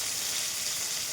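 Pointed gourd and potatoes frying in oil make a steady, dense hiss of sizzling, even and close for about a second with no voices.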